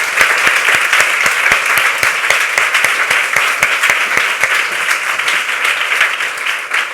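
A large audience at a formal presentation applauding loudly and steadily, dense rapid clapping that fills the room for the whole stretch with a few stronger individual claps standing out.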